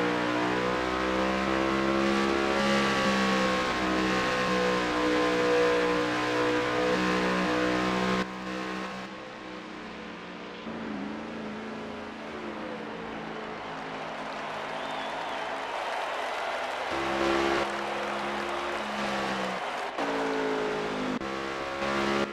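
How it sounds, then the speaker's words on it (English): Race cars circle a Gateway track on qualifying laps, engines droning and revving steadily, loud and fairly close, with a crowd faintly audible underneath and no talking. "Here we go, Bullsdog is running his laps."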